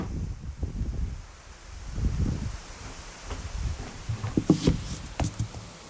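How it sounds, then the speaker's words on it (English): During an outdoor yoga class, gusty wind buffets the microphone in low rumbling swells, with some rustling, surging louder near the end. "It's windy."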